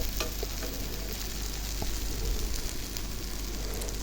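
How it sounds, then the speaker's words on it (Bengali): Eggplant frying with egg in a home pan gives a steady, close crackling sizzle with a few scraping stirs, the frying sound running without a break through the whole stretch. "শুধু ভাজা করবো আমি ডিম দিয়ে"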